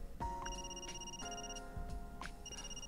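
A smartphone rings inside a car during the otome game Stand My Heroes. The ringtone is a bright repeating melodic chime, heard in three clear bursts over a steady low background.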